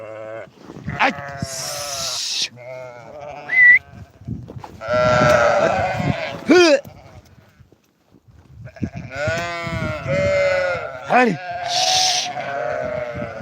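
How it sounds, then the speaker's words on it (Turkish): Livestock bleating on a farm as a lamb is let out through a door, several loud wavering bleats repeating close by over the whole stretch, with people talking and calling out between them. "Kapıyı aç kuzu çıksın."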